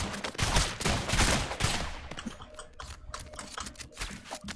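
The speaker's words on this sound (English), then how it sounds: "I gotta reload." Mechanical clicking and ratcheting of a weapon being reloaded in the video game ROUNDS, a loud burst of clatter at first, then thinner, scattered clicks amid game noise.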